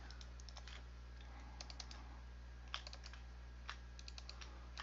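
Rapid clicking from a computer mouse during Minecraft play, quick clustered bursts of faint, crisp clicks over a steady low electrical hum, with no talk.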